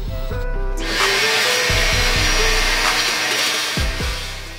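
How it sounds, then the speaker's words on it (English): A power drill with a 5/32 bit bores a hole in a BMW E53 X5 cargo cover part, its motor whining loudly and steadily up close for several seconds with a brief rev change near the end. "then we're going to use a 5/32 size drill bit, which is just big enough for us to tap the metric threads into"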